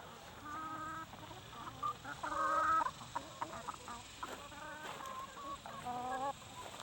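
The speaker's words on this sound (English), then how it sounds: "General happy cooing sound, what Kim calls the sound of happy chickens." Chickens on fresh muddy pasture murmur in soft, repeated clucks and coos while scratching for bugs, a gentle, close, contented chatter in irregular bursts with no talk over it.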